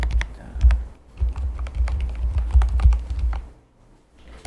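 Steady typing on a computer keyboard while writing JavaScript code, with close, quick keystrokes in bursts that pause briefly toward the end and no voice over them.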